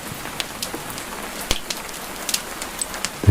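Steady rain falling outside a cottage, a soft continuous patter with scattered sharper drops tapping nearby surfaces.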